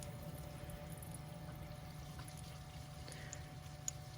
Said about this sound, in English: Kind of hear the water working its way through.